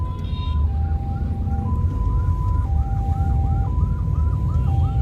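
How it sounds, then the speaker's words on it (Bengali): A wailing ambulance siren alternates between two pitches with a rapid warble, loud and steady over constant traffic rumble. "অ্যাম্বুলেন্স একটা আছে"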